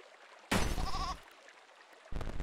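A goat in the video game There Is No Game lets out a loud, wavering bleat, followed after a short gap by another burst at the end, with no speech.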